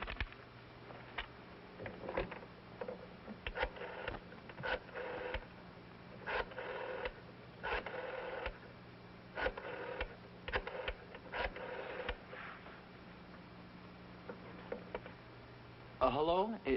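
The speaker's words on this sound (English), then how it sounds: "dial a number" An old rotary telephone being dialed, a series of clicking whirring bursts as the dial turns and returns, repeated for several digits, fairly close, with a brief rattle as the dialing finishes.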